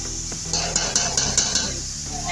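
Partridge karahi sizzles and fries in a pan while a spoon stirs it, giving rapid scraping and clinking strokes over a steady frying hiss, close and fairly loud.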